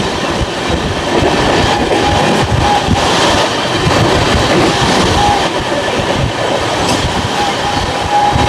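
The Sairang Express passenger train runs along the line with a loud, steady rumble and rattle of wagons that continues without a break, with faint brake or wheel squeal mixed in.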